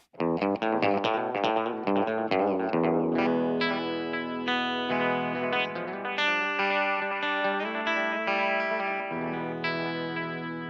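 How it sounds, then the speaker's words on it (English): Electric guitar chords and single notes through a Vox-style amp ring out with a slightly gritty, shimmering tone, a little reverb and delay, no modulation, played alone and up close. "It's like a Vox style amp and it's just got a little reverb, little delay, but no modulation."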